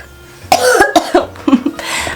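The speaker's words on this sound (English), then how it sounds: "My laugh made me cough." A single person coughs several times in a short, loud burst, a few sharp hacking bursts spaced close together, following a laugh.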